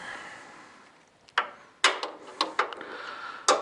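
A socket wrench ratchets on the headlight adjuster of a 2006-2011 Mercury Grand Marquis, sounding as a few sharp, close clicking bursts in irregular quick succession against a quiet background.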